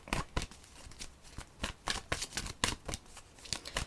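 Tarot cards being shuffled in a steady series of crisp riffling bursts and slaps, close and fairly quiet, with no talking.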